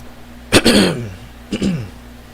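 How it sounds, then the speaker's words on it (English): Two separate throat clearings, close and fairly loud, the second slightly shorter, with a quiet pause between them. "Expect me to clear my throat a lot"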